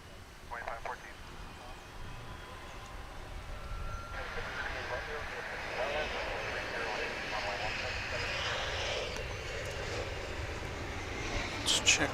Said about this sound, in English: there's a Lufthansa coming in